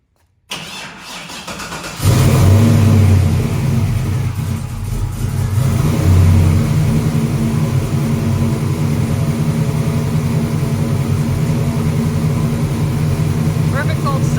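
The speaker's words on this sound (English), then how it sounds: "Perfect cold start." An LS-swapped Chevelle's engine cold starts after a brief starter crank, catching abruptly and settling into a loud, steady, rumbling idle close to the microphone.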